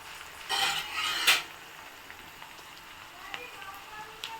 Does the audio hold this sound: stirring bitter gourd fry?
yes